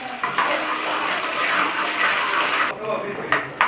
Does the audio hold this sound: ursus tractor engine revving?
no